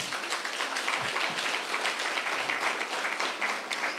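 A church congregation applauds during a Spanish-language sermon, steady mid-level clapping filling the room without interruption.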